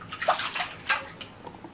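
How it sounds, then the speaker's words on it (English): A paintbrush swished and rinsed in a container of water, giving brief soft splashing and sloshing bursts, close and quiet with no talk. "we're going to rinse the brush off"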